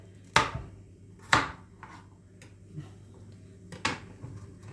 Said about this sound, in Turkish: Şimdi tekrar şöyle fazla büyük olmayacak şekilde küp küp doğruyoruz havuçlarımızı